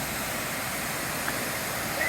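A hidden forest waterfall in Komaram Bheem District gives a steady, even rush of falling water that stays constant and fairly close, with no voices.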